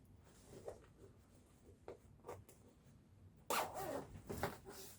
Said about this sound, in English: we're going to keep the zipper out of the way, and actually if you reach in and open it